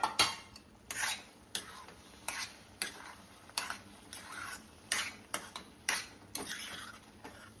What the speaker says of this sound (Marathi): आता हे जे उरलेलं दूध आहे ते सुद्धा आपण घालून घेतो